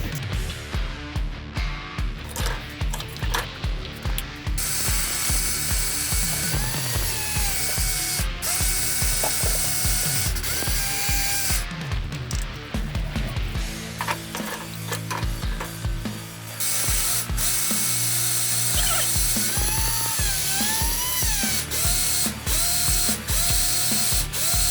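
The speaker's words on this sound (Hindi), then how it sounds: "और हाफ़ जो है वो हम ग्राइंडर में जो है ना वो पीस लेंगे" An electric grinder runs loud and close, grinding whole spices for karela pickle with a harsh, rattling, whirring roar. It pulses in uneven bursts, then settles into steadier stretches, with brief pauses between runs and no talking.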